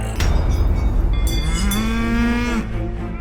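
A cow lets out a long, loud moo, rising and holding before trailing off, with other cattle lowing close by on a farm outing; no one speaks.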